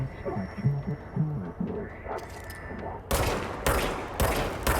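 A gun fires in the video game Control in three loud bursts in the second half, after a quieter stretch of low in-game ambience.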